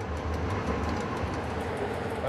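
A passenger train on the line between Belgrade and Sarajevo rolls along, giving a continuous loud rumble and rattle of carriages on the rails, steady throughout this short stretch.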